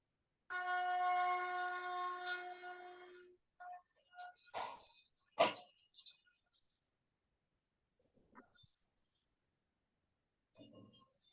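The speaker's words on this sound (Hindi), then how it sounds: "आपका और साथ में सभी उपस्थित साधकों का एक बार शंख ध्वनि से स्वागत है।" A conch shell is blown once as a welcome at a spiritual gathering, giving a steady, horn-like tone of about three seconds. Scattered quiet knocks and clicks follow in an otherwise hushed room.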